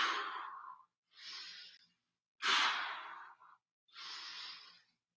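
Heavy exercise breathing during push-ups, four strong breaths drawn in through the nose and pushed out through the mouth, close and rhythmic with short pauses between.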